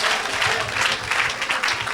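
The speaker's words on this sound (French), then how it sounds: "Donnons une grande acclamation à Jésus-Christ." Audience at an evangelistic gathering applauding and cheering, a brief burst of loud, dense clapping that stays steady, with no talk over it.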